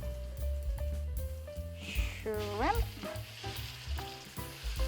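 Shrimp frying in garlic-infused butter and oil crackle and sizzle close up, while a spoon stirs and scrapes through them and tonal noise rises and falls in the background.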